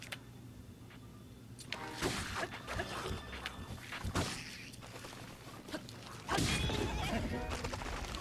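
A horse whinnies amid busy game sounds and rumbling noise in The Legend of Zelda: Breath of the Wild, near Kakariko Village, with a louder burst of activity near the end.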